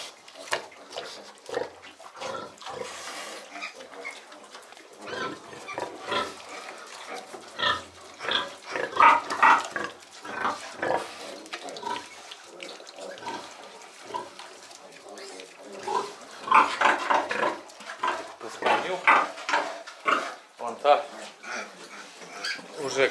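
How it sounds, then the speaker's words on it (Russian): A sow in a barn grunts repeatedly to call her piglets, a string of close, low rhythmic oinks and snorts that grow busier and louder in bursts, with people talking nearby. "Вот это зовет поросят."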